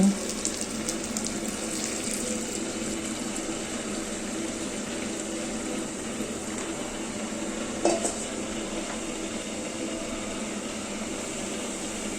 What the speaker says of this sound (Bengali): চালটা ভাজা হয়ে গিয়েছে এখন গরম পানি দিয়ে দিচ্ছি